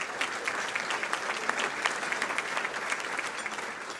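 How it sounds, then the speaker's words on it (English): An audience at a civic media-group gathering claps steadily for several seconds, a dense, even burst of applause filling the room with no voices standing out. "So give yourselves a round of applause."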